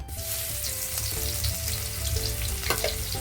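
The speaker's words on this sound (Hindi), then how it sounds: "लहसुन को थोड़ा सा अच्छी तरह भून लेते हैं, खुशबू आने तक ये भूनना है अच्छी तरह।" Grated garlic and curry leaves fry in hot oil for a prawn masala curry, giving a steady, close crackling sizzle with faint stirring throughout and no talking.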